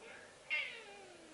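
A pet cat gives a single short, soft meow, faint and close by in a quiet indoor room, with no clear purring.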